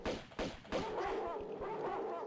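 Dogs in a video game bark a few times in quick, sharp bursts near the start, then settle into a steady, noisy rumble of game sound.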